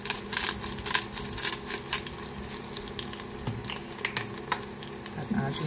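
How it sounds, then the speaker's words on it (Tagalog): Beef stew with chili beans, seasoned with garlic, onion, black pepper and sea salt, being stirred in a pot, giving a busy close sizzle with repeated spoon scrapes and clicks throughout. "Ating haluin lang po at hintayin."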